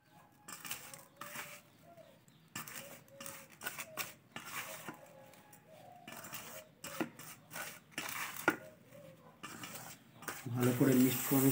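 Rice flour being mixed by hand into a laddu fishing-bait mix of peanut shells and coconut, with soft irregular scraping and clinking strokes, faint and close, then a louder clatter at the end.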